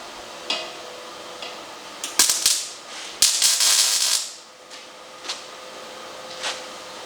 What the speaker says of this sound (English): spot weld these